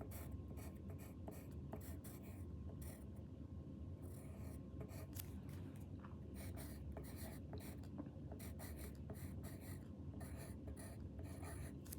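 Pen scratches across blueprint paper while plans for a haunted house are marked up, a quiet, close run of short scribbling strokes with brief pauses.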